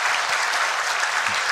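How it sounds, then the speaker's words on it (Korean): A church congregation claps in welcome for newcomers during a Sunday service, a brief, steady burst of many hands applauding together. "일어나실 때 환영의 박수 부탁드립니다"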